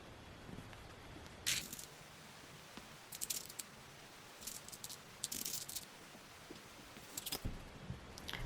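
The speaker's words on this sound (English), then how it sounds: "I'll cut the excess off" Scissors snipping off excess fabric from a thrifted garment, a few short crisp cuts in bursts at a quiet close range, with no talking.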